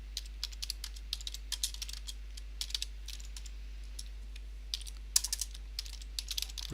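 Fingers type quickly on a computer keyboard to enter a letter in a word processor, producing clusters of light, crisp key clicks at close range over a steady low hum, with no speech.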